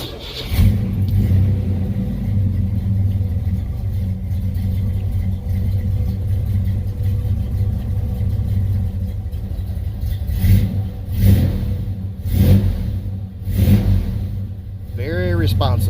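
A Chevy S10 drag truck's engine fires up and idles with a heavy rumble, then revs in several sharp blips, loud and close, with someone talking over it.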